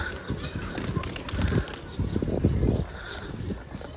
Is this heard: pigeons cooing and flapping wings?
yes